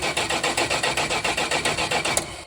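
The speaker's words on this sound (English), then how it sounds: "you can listen to the compression of your engine as it cranks over without firing" A 1973 Dodge Polara 440 V8 engine cranking over steadily without catching, an even rhythmic chug of about a dozen compression pulses, close and loud, stopping abruptly.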